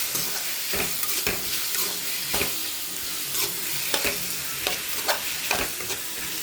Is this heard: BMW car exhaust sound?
no